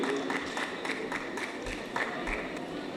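Audience applause in a hall at a cultural talk in Erzurum, a broad steady wash of clapping held at an even level for the whole stretch.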